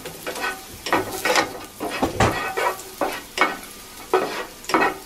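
Garlic sizzling in hot oil in a pan while being stirred, for a Chinese-style broccoli and beef dish; the frying hiss rises and falls in repeated bursts with each stir, close and clear, with no talking.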